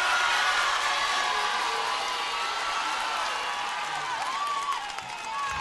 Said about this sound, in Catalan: No és només un aplaudiment per en Guillem.